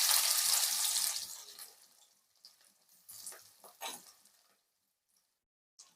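Sliced onions and curry leaves hit hot oil with cloves and cinnamon, bursting into a loud, bright hiss that fades into scattered crackles and spitting pops before dying away.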